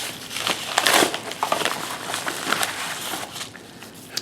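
Crinkling and crushing of packaging as a mailed parcel holding a Glock 26 upgrade part is torn open up close, with irregular rustling bursts that start strong and then thin out into lighter handling sounds.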